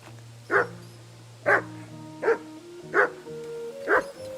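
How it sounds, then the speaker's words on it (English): A dog in the medieval open-world game Kingdom Come: Deliverance 2 gives five evenly spaced, mid-loud barks over a soft background music drone, with no talking. "Is that the dog Elijah mentioned?"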